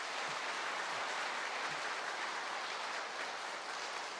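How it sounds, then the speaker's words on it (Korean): A church congregation applauding after a choir's hymn during a Sunday service, a steady, thick wash of clapping that continues evenly throughout, with a few soft low thumps. "우리 격려의 박수를 크게 한번 해주시기 바랍니다."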